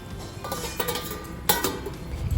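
A metal lid lifted off a cooking pot of fish heads and potatoes, giving a few brief clinks and scrapes at close range, with one sharper knock near the middle over a low simmering background.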